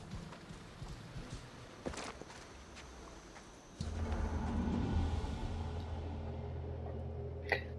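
Hoofbeats of a horse in Assassin's Creed Odyssey thud in a steady rhythm at moderate distance, joined midway by a louder low rumbling ambience, with no talk.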